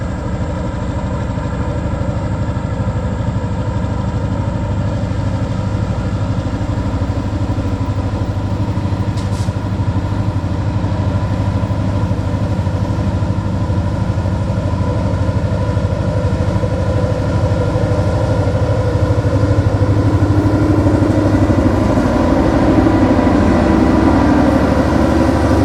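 Norfolk Southern GP38-2 and GP59E diesel locomotives idle with a steady, continuous low engine rumble and drone that holds evenly for the whole stretch, with no voices.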